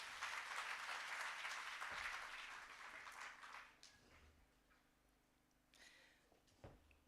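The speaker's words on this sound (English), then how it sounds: "Can we give him a round of applause?" Applause from an audience at a provincial smart province launch event in KwaZulu-Natal, loud and sustained at first, then thinning into scattered claps before a few late bursts.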